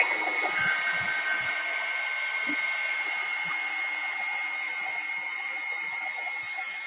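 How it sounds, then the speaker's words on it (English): A hair dryer blows a continuous, even whirring hiss close by while drying a piece of artwork, with faint light knocks underneath. "I'm going to dry that off"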